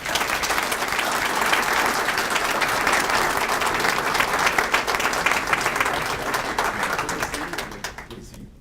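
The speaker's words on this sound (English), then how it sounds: "Let's all stand and give these three amazing individuals a round of applause." Sustained audience applause at an awards banquet, a dense, steady roar of many hands clapping that fills the room before fading out at the end.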